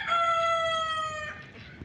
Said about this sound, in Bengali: মুরগি ডাকাডাকি করছে